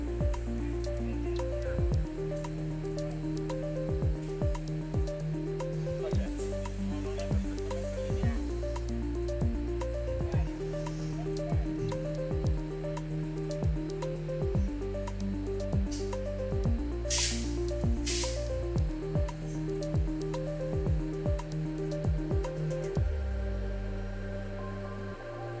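Coating pilot line machinery running on film before a reel change: a continuous industrial drone with shifting tonal hums and a few brief clicks, steady throughout with no talk.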